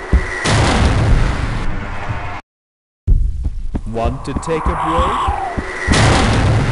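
In the video game Halfquake Trilogy, explosions make heavy, booming rumbles with a throbbing low hum and a brief silent gap. A voice talks over the noise.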